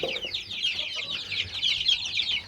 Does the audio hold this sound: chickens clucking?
yes